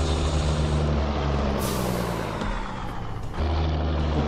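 Air brake hiss on a Mercedes-Benz Atron 1635 truck pulling a Krone container trailer, a sharp burst of escaping air over the loud, steady diesel engine drone, with a second release a moment later.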